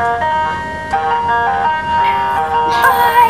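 A cartoon library truck drives up playing a tinkling ice-cream-van style melody, a steady sequence of bright chiming notes with a soft vehicle rumble beneath, fairly loud and close.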